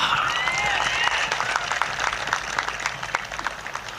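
Applause from a crowd at a political speech, a dense patter of clapping that is loud at first and slowly thins out, with no voice over it.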